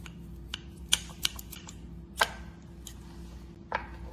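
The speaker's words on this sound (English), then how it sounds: "we're gonna just trim some of this fat off the meat" A knife trims top fat off a rib back strap on a cutting board, giving sparse, close, sharp clicks and taps at irregular intervals over a low steady hum.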